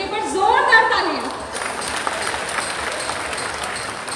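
An audience at the Thawe Mahotsav festival in Gopalganj, 2022, claps and cheers for the performers: a voice carries over the first moments before steady, fairly loud applause fills the rest.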